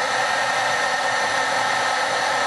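A heat tool melts white Clearsnap Top Boss embossing powder with a loud, steady blowing whoosh that lasts the whole time, and no one speaks.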